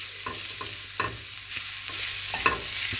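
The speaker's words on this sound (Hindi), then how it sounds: "ऑयल जब गर्म हो जाएगा तो इसमें मैं डालूंगी 3 से 4 जवे गार्लिक के और इनको सौटे करेंगे" Three or four garlic cloves sauté in two tablespoons of hot oil in a pan, giving a soft constant sizzle with a few light clicks and stirs of a utensil, close and with no talking.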